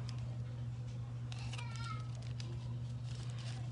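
A cat meows in a few short, faint calls over a steady low electrical hum, with no talking.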